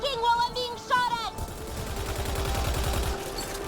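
Rapid bursts of sci-fi gunfire in Mass Effect: Andromeda combat, a dense crackling barrage that builds and holds steady after a brief stretch of in-game voices and tones at the start.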